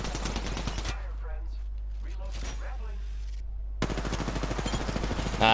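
Rapid automatic enemy gunfire in Apex Legends: a dense close burst, a pause filled with talking, then another sustained volley that runs to the end.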